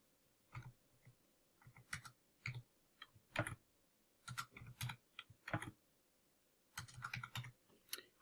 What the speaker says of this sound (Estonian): Sisestage otsinguväljale katastriüksuse number